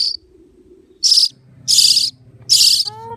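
A young bird found by people lets out three loud, shrill screams in quick succession, close by, with a faint low murmur of talk underneath.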